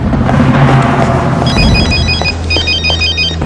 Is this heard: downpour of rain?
no